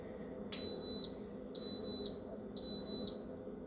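Three evenly spaced, loud high-pitched electronic beeps from an electric pressure cooker finishing a cycle of steaming greens, each lasting about half a second, with no voices.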